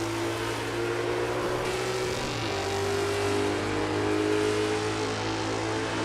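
A historic sportscar's race engine in the racing sim Assetto Corsa, on the Norisring circuit, drones loud and steady, its pitch dipping once as it shifts and then holding, alone with no talking.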